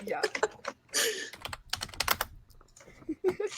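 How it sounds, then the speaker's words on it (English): Rapid, forceful typing on a computer keyboard, dense bursts of clacking keystrokes close by, with voices talking and laughing over and between them. "He's violently typing on his keyboard to ignore us."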